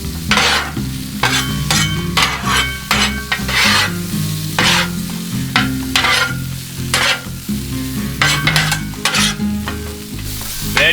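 Vegetables and garlic sizzle and fry in a pan over a steady loud crackle, with repeated stirring scrapes and clatters throughout, no talking.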